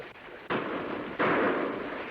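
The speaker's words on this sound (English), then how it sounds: "Shots sound like they come from over ridge" Gunshots from over a ridge in a classic western TV episode, two sharp reports about a second apart, each trailing into a long rumbling echo.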